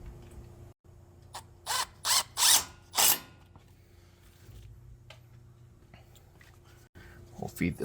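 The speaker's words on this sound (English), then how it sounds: "Next we'll get the wheel speed sensor bolt back in." A ratchet tightens the 8 mm wheel speed sensor bolt on a Ford F-150 front hub, giving several quick clicking bursts up close amid quiet workshop hum, with more faint clicks near the end.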